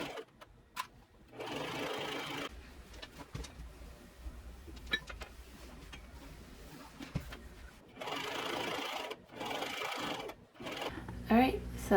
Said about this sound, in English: I machine gathered it, but just putting it on the longest stitch and the highest tension